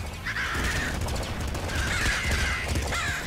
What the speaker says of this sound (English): Alright, crows.